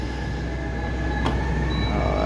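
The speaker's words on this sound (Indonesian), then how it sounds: "jika dipencet seperti itu, nanti pintunya akan menutup tuh" An electric train door closes after a button press aboard the Lodaya passenger train, a single sharp thump partway through against the constant loud hum of the carriage.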